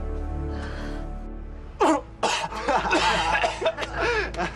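A person lets out a sudden harsh cough in an indoor family setting, breaking a quiet stretch, followed by a run of rougher coughing and moaning vocal sounds at close range.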